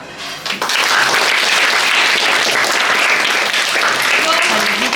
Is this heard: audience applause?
yes